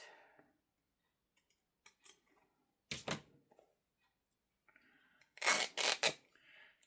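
Scissors snip paper strips for picture flips in several separate crisp cuts, close and clear, with quiet gaps between them and a louder double snip near the end.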